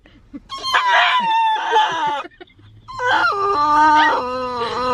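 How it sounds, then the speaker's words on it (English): Dog giving an unusual, drawn-out howling bark, two long wavering yowls close to the listener and loud, separated by a brief pause. "He doesn't bark like a normal dog."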